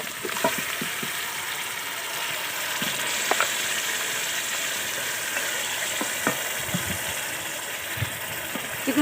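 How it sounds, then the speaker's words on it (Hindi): Marinated chicken frying in a pan with onion paste, a steady, fairly loud sizzle that runs throughout, dotted with occasional light stirring clicks. "चिकन को भी हल्का सा फ्राई कर लेंगे।"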